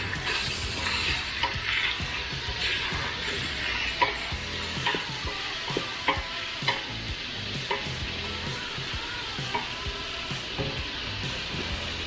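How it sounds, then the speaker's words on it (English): Sausage and onions sizzle steadily in a hot pan over medium heat while a spoon stirs through them, scraping and clattering in an uneven rhythm over the constant frying hiss. "I'm going to go ahead and stir this for the first time."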